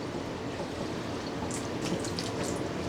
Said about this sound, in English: Get a lot of water drain when you squeegee.